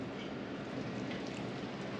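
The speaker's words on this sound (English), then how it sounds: "It's a little bit rainy" Light rain falls steadily in Valdez, Alaska, a soft continuous hiss of drops on surfaces with a faint low background rumble and no voices.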